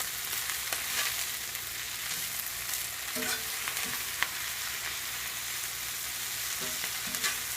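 Spinach leaves sizzle and wilt in a hot pan, a soft continuous frying hiss with occasional light clicks from a turning utensil, fairly quiet and without talking.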